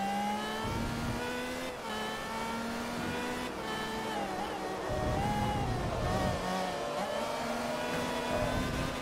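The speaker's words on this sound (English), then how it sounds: "This is rev banging the absolute arse off this car." A race car in Forza Motorsport 3 held at high revs on the limiter, a loud continuous buzzing engine drone with stepped pitch shifts and brief dips, close and alone.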